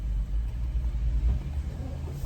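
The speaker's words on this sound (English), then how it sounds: "you know when a car pulls up next to you at the light?" A car idling close by at a traffic light, giving a steady low engine rumble that carries on alone the whole time with no talk over it.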